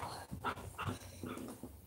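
Close-up dog panting in quick, uneven breaths mixed with short whimpers, over about two seconds indoors, with no talking.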